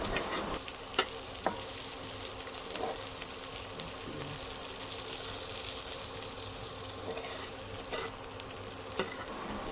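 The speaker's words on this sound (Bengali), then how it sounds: "পেঁয়াজটা পুরো লাল লাল করে ভাজা হচ্ছে" Onions fry in hot oil until reddish brown, a steady close hiss and crackle with occasional stirring scrapes and clinks in a home kitchen, no voices over it.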